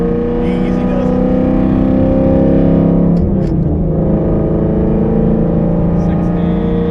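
Oldsmobile Alero fitted with a 2020 Ford GT500 engine accelerating, a loud steady engine roar that holds its pitch, heard from inside the car.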